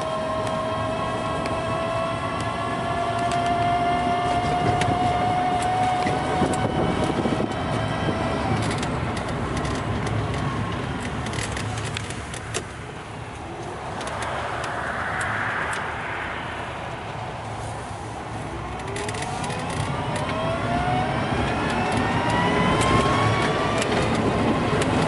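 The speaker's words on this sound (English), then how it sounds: "And they'll start to accelerate, even coming up a hill like this." A ZEV T3 electric pickup trike pulls away and accelerates up a hill, its steady motor whine rising and falling in pitch over a broad outdoor rumble of wind and tire noise, with no talking.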